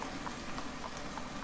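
Horse hooves clip-clop steadily in a rhythmic walking pace, moderately close, with no talking over them, as a rider leads the horse to a stable at an inn.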